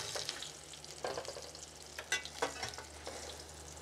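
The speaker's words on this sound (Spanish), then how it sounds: "Ya que está doradito por un lado, lo voy a voltear para que se dore por el otro." A tortilla fries in a pan after being flipped on a home rancho kitchen stove, giving a soft, steady crackle with a few sharper pops and no talking.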